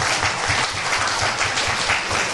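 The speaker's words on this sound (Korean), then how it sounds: "우리 할아버지 할머니, 어머니 아버님 모두 박수 할까요?" Steady applause from a crowd, dense clapping filling the whole stretch with no voices on top, fairly loud and even throughout.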